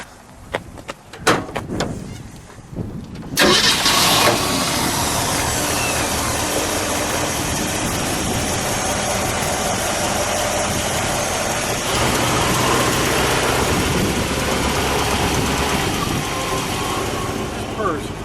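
A 1966 Ford Fairlane 500 with its 289 V8 and single exhaust cranks with a few short bursts, then catches and settles into a steady, even idle that runs on close by, with people talking faintly over it.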